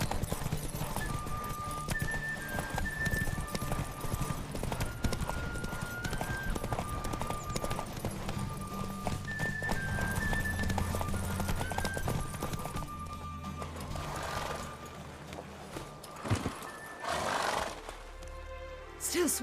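Roach, a horse in The Witcher 3, galloping with a fast, dense drumming of hooves under game music, a voice speaking over it, the hoofbeats thinning toward the end.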